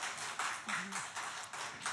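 A small audience at a talk gives a short burst of faint, rapid, evenly spaced claps lasting about two seconds, with a voice in the background.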